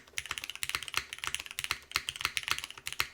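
Rapid typing on a Constance TKL keyboard fitted with milky yellow switches, a steady close run of crisp clacking keystrokes with short pauses and no talk.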